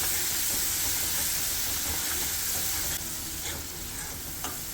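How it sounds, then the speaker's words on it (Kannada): Spice masala fries in a pan over a low flame with a dense, steady sizzle and hiss, broken by faint stirring scrapes, close and unbroken. "ಈ ಮಸಾಲೆ ಎಲ್ಲ ಚೆನ್ನಾಗಿ ನಾವು ಸ್ವಲ್ಪ ಫ್ರೈ ಮಾಡ್ಕೊಳ್ಳೋಣ."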